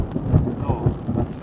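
Heavy first-of-season monsoon rain pours down on fields in Dadodiya village, a dense close hiss with low rolling thunder rumbles pulsing underneath throughout the short stretch.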